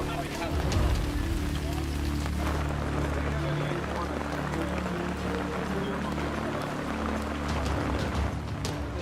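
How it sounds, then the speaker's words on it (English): Steady rain falling on a surface during an outdoor expedition, a dense continuous hiss with low rumbling underneath lasting throughout, with faint voices mixed in. "When did this rain start?"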